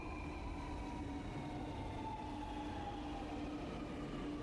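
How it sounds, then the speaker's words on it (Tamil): A metro train rolls along with a continuous, even rumble and a faint tonal hum, heard from inside the carriage without pause. "மெட்ரோல இருந்து போகிறோம்."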